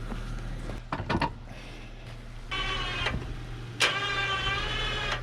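A stuck off-road vehicle is pulled out of a ditch through deep snow, with its engine revving in strained bursts and a steady hum beneath, alongside a few clunks and knocks.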